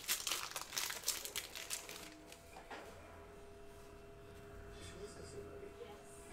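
Foil wrapper of a 2018-19 Panini Status NBA basketball card fat pack crinkling and ripping open close by, a burst of sharp crackles over the first two seconds that settles into quiet handling.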